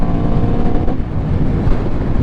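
A 2018 Aprilia RSV4 RR superbike's engine roars steadily, loud and close, with a low throbbing drone and wind buffeting the microphone, no voices.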